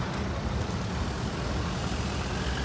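Broadband traffic roar of a bus on a London street near Broadcasting House, a steady dense rumble with no distinct events.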